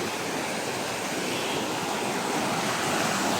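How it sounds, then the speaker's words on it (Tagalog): A stream flows toward the sea at a river mouth, giving a dense, steady rushing wash of water that fills the whole stretch evenly and loudly, with no voices over it. "May sapa dito."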